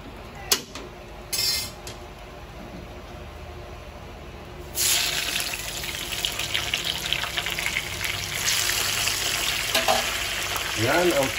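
Yellowfin tuna head frying in butter: after a few quiet clicks, a steady, close, crackling sizzle starts and keeps going, rising and bubbling with no talking.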